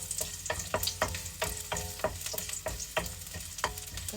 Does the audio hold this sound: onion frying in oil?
yes